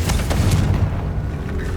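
Confringo blasting curse going off in Hogwarts Legacy, a loud, dense low boom that rolls on for nearly two seconds with crackling debris layered over it and no gap of quiet.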